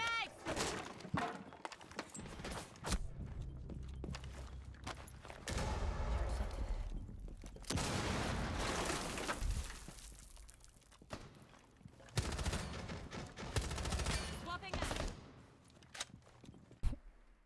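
Bursts of rapid automatic gunfire in Rainbow Six Siege, clustered volleys with shattering and breaking impacts and footsteps between them, while a player talks over the action.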